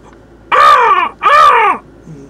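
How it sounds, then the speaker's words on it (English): Two loud, close crow caws in quick succession, each harsh and drawn out, with quiet background between them. "that's a crow. I should just call it the crow."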